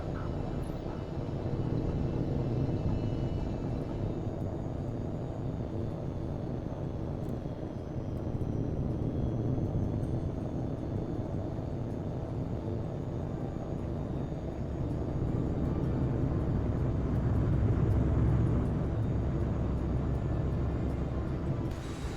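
A jet fighter in the video game H.A.W.X 2 takes off with a steady, loud, rumbling engine roar that swells slightly near the end, with no talk over it.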